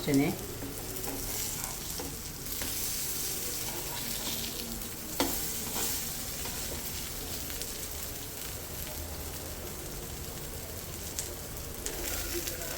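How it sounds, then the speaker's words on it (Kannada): Yam slices shallow-fry in a pan with a constant, fairly quiet crackling sizzle, punctuated by occasional sharp clinks and scrapes as pieces are turned. "ಕ್ರಿಸ್ಪಿಯಾಗೂ ಇರುತ್ತೆ ಶಾಲೋ ಫ್ರೈ ಮಾಡಬೇಕು"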